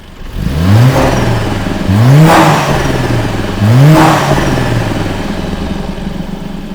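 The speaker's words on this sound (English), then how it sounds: "So this is how the car sounds" A turbocharged Mercedes-AMG A45 S engine fitted with an induction kit revs up three times in quick bursts, each climbing in pitch and then dropping back to a rumbling idle, loud and close.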